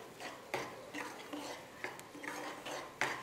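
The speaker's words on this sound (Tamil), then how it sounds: "நல்லா மிக்ஸ் பண்ணிக்கலாம் மசாலா எல்லாமே" A spoon stirs masala for a Coorg fish curry in a pan, giving soft rhythmic scrapes and light clinks about every half second, faint and close, with no voices.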